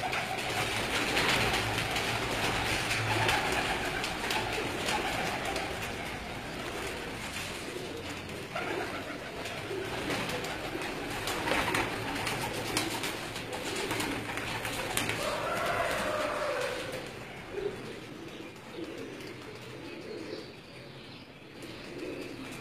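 Breeder pigeons cooing on a rooftop in Dinga, Gujrat district, soft repeated coos over a steady outdoor background hum, with distant rumble fading near the end.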